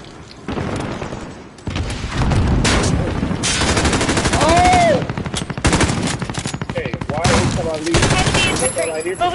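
Heavy automatic gunfire in Call of Duty Modern Warfare, loud sustained bursts and rattling volleys with booms, nearly continuous for several seconds, with voices talking underneath.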